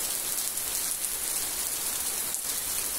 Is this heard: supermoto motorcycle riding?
no